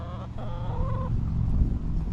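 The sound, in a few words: chickens clucking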